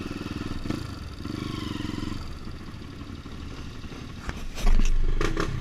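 A motocross dirt bike on a trail ride runs with a steady engine drone, then revs up sharply near the end as it accelerates, close and fairly loud.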